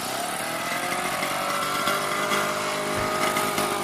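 A Solex moped's small engine runs steadily, a buzzing, lawnmower-like drone that stays loud and even, with a brief dip in the low rumble near the end.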